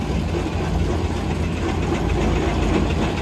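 Steam traction engines rolling past in a parade at a steam and craft show, a steady low rumbling drone with faint mechanical clatter, continuous and moderately close, with no voices.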